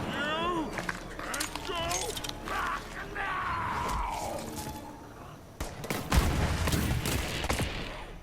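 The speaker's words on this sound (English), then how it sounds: "Who's shooting at me?" Gunfire in the Borderlands 3 video game, sharp bursts scattered through the clip and denser toward the end, heard alongside game sound effects and a player speaking.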